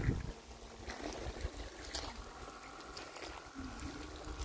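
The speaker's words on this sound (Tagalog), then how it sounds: "May hot shower na po tayo." Hot shower water runs at a lakeside campsite, a soft continuous spray and trickle heard faintly and fairly close, with little else over it.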